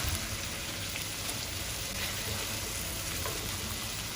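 Prawn sambal with petai bubbles over a high flame, making a steady, even hiss and sizzle that stays fairly faint and unbroken.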